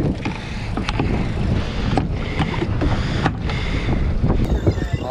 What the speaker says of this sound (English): I know you guys can't hear me because of the wind